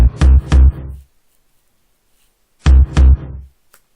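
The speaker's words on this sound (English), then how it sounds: "you've got a dirty bass sound, which sounds like this." Dirty, distorted bass hits from an FL Studio beat: two punchy paired stabs, a silent gap, then the same pair again, loud and close with gritty harmonics and no talking.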